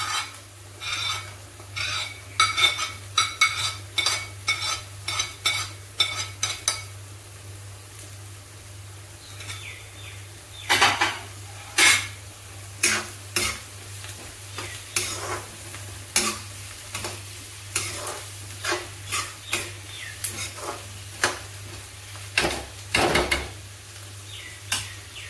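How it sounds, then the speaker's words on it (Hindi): Chopped onions and capsicum frying and being stirred in a pan for pav bhaji, with repeated scraping stirs over a steady sizzle and a low background hum, no talking. "हमारा प्याज लगभग पक चुका है, अभी इसमें डालेंगे तो बारीक काट के मैं रखा था शिमला मिर्च।"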